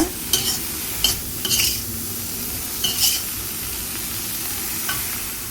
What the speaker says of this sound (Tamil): இந்த ப்ராக்கலி வந்து நல்லா வதங்கினதுக்கப்புறம் பார்த்தீங்கன்னா கொஞ்சமாக வந்து ரெட் சில்லி ஃப்ளேக்ஸ் போட்டிருக்கேன், அப்புறம் ஆரிகேனோ, அப்புறம் உப்பு சேர்த்துருக்கேன்